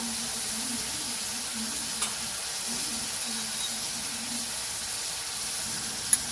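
Potato pieces fry with turmeric in a pan for a banana-blossom curry, giving a steady, soft, continuous sizzle close by with a faint low hum beneath and a few small clicks.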